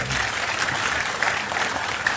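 A crowd at a political gathering applauds Mbak Puan with dense, even clapping throughout, fairly close and loud, with a faint voice underneath.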